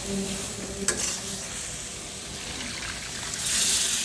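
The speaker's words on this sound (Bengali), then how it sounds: "এখন এই পর্যায়ে কিন্তু আমি গরম জলটা দিয়ে দেবো।" Hot water poured into a pan of radish and small hilsa fish curry, giving a steady close sizzle and bubbling stir with a brief clank early on that swells toward the end.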